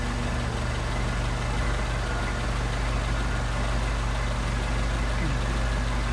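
A Singapore Solex carburetor engine idles steadily throughout, a continuous even drone with a low hum and no clear change in pace.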